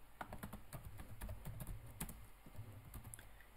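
Computer keyboard typing, a run of soft, rapid key clicks over a constant low background hum, faint and close, with no talking.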